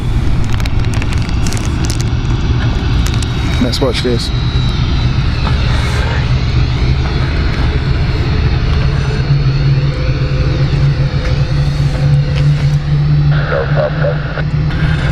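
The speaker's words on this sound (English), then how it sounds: "Not an APU, we have an engine." A Swiss airliner's engine runs at Zurich airport, a loud, steady roar that fills the whole stretch while people talk over it nearby.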